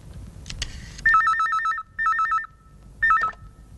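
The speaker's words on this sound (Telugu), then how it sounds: "నేను ఫోన్ చేస్తాను." A telephone gives three warbling electronic rings, each short and separated by pauses, with faint room noise underneath.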